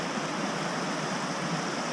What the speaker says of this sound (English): Oh, so we're following the river here.